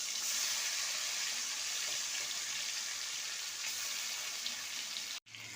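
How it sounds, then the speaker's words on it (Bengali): Chicken rubbed with salt, chili, turmeric, coriander and cumin frying in mustard oil, giving a steady hiss that stays even before briefly cutting out near the end. "সেটা আগে ভেজে নিলাম"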